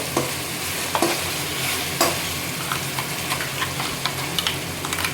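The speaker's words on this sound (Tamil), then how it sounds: "எல்லாத்தையும் சேர்த்து வதக்கிடுவோம்" Ginger garlic paste and ground masala sauté in a pan with oil, a steady close sizzle under repeated scraping and stirring strokes with a spoon, no voices.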